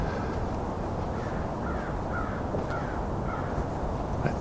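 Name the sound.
crows cawing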